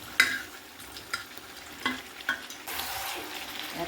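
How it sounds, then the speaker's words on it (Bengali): Water and fried potatoes go into a pan of cooking chicken curry, giving a low sizzle with a few sharp clinks and stirring scrapes, then a louder hiss near the end. No one talks. "এবার এতে সামান্য একটু জল দেবো, এই আলুগুলো দিয়ে দেবো।"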